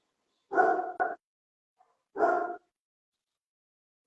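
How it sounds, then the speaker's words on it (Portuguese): A dog barks in two loud, close bursts, first a doubled bark and then a single one after a pause, with near silence between them. "Cachorro latindo."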